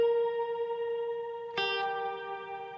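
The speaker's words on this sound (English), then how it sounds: "It takes a little bit longer for the shimmer effect to actually fade in" A sustained guitar note rings through a Slate Seraphim shimmer reverb, followed by a second struck note whose bright, airy upper shimmer swells in and hangs over the decay.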